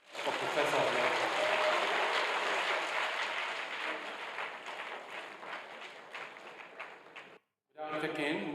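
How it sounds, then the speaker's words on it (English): An audience at a university inaugural lecture claps for a professor of organic chemistry, a dense roar of applause that gradually thins and fades, then breaks off briefly before a short burst resumes at the end. "please can I have a round of applause for Professor Olonisakin"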